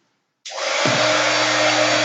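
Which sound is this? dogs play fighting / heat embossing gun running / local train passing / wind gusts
heat embossing gun running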